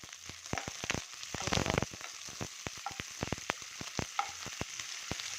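Steady oil sizzling with sharp, irregular crackles and pops as green chillies and onion fry in a pan nearby, with a brief burst of stirring.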